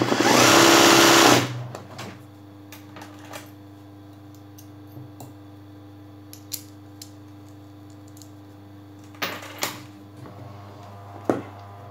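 A sewing machine stitching Rabati embroidery buzzes loudly in a short burst at the start, followed by quiet ticks and small taps, with another brief rattle of activity later on.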